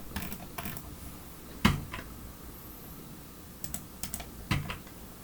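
Computer keyboard keys are pressed for shortcuts in a 3D modeling program, heard as sparse, sharp clicks close up, one louder tap followed by a few scattered keystrokes, with no talking.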